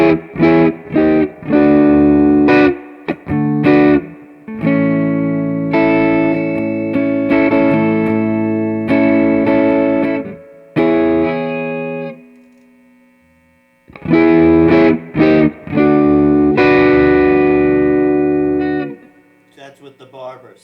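Electric guitar played through a THD Hotplate attenuator into a Super Reverb amp with a drive pedal, loud distorted chords and sustained notes in bursts with brief gaps.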